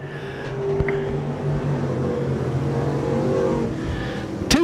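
Race cars roar steadily around the Boyds Speedway oval. The engines drone and rise under a continuous broad rumble, with a sharp burst near the end.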